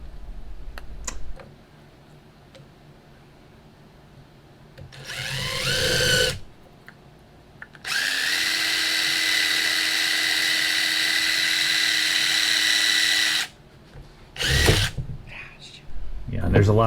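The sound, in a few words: power drill drilling a hole in wood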